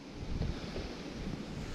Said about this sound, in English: You can see the wind keeps getting up.